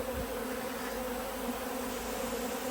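Honey bees buzzing around an open feeder during autumn feeding for winter, a steady continuous hum of many insects close by with no talking.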